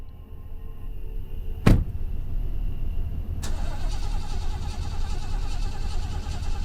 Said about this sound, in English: the car will not start back up